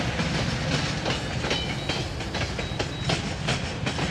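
A slow-moving train rolls past, its railcars giving a steady rumble with irregular clickety-clack wheel knocks and faint squeals, continuous and fairly close throughout.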